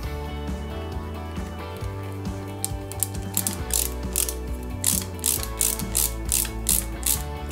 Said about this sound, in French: on fixe le tout avec deux vis pareil AP.